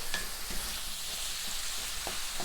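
Meat browning in a pan over medium heat for Tex-Mex rice, a steady close sizzle with a few soft scraping stirs, no talking.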